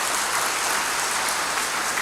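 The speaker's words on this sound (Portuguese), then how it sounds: "Você pode dar um aplauso a Jesus?" Church congregation applauding during a sermon, a steady dense wash of clapping that fills the whole stretch at even loudness with no voice over it.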